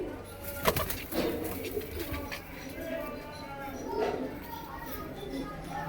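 A red Chinese female pigeon coos softly among other pigeons at a bird sale in Amritsar, its low repeated calls mixed with a voice talking over them.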